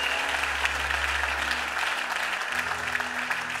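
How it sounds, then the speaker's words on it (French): A church congregation applauds together, a steady dense clapping that runs the whole time with a low sustained organ or keyboard tone underneath. "J'aimerais qu'on puisse encore acclamer le Seigneur pour le bishop."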